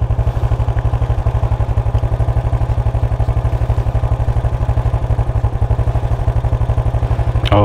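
A Motorstar Zest 110 motorcycle engine idles steadily close by, its rapid even low thump pulsing without a break for several seconds before a brief rising whine at the very end.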